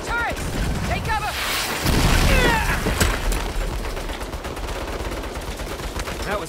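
Rapid turret gunfire rattles in bursts during a Saints Row shootout, mixed with explosion booms and mechanical clanks, loud and dense with a heavier surge near the middle.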